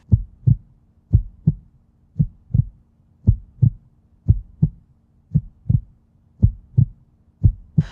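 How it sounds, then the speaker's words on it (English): Steady heartbeat, a low thumping lub-dub repeating about every second, clear and close with nothing else audible. "It was the beating of the old man's heart."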